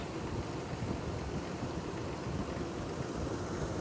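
A car's climate control fan runs during an evaporator cleaning service, a steady broadband whoosh that holds at an even level throughout, close and alone with no talk.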